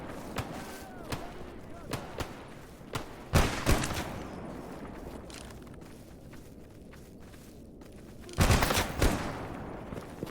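Gunfire bursts in the survival shooter STALKER GAMMA: a few scattered single shots early, a loud cluster of rapid shots near the start, then a dense volley toward the end, with low ambient rumble between.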